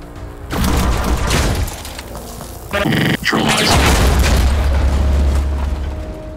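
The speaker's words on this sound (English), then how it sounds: "I think it would be best if we first got Dux a bit further away from the eventual explosion." Loud booming explosions in Mutant Year Zero, a heavy blast followed by crashing debris and a second burst, then a sustained low rumble that slowly fades.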